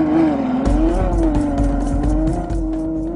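A Ferrari FF engine drones and revs steadily at close range while driving a snowy road course, tone rising and falling slightly with throttle, with faint tire noise on snow.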